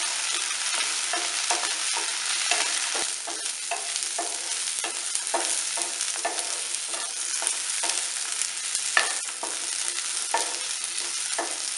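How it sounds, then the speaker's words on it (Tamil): Shallots and garlic sauté in a pan for a small-onion chutney, with a continuous close sizzle broken by repeated rhythmic stirring scrapes and no voice. "நல்லா வதக்கிக்கலாம்."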